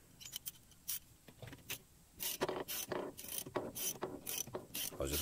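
On a BA/BF Falcon front wheel bearing job, a long bolt on a bearing puller is ratcheted tight to draw the bearing collar out, giving a run of sharp metallic ratchet clicks in uneven bursts, close and fairly quiet.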